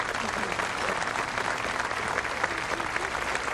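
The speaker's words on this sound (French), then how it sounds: "On les applaudit encore très fort." A crowd claps loudly and continuously for a cycling team being honored, a dense, steady wash of applause with no pause throughout.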